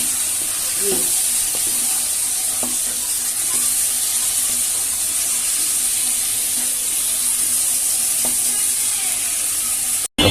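Potatoes and pointed gourd are stirred into fried spice masala in a pan, a steady sizzle over about ten seconds with occasional scraping clinks of a spoon, no talking.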